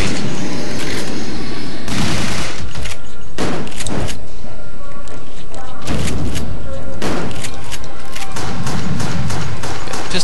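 Loud, punchy shots burst out in the zombie shooter Resident Evil: The Darkside Chronicles, spaced irregularly among heavy booms and thuds, with dense game noise filling the whole stretch.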